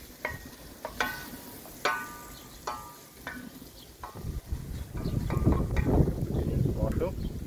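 Spoon clinks and scrapes against a pot of food cooking on a rocket stove, sharp repeated taps at first, then a louder sizzling, stirring rush, with people talking nearby.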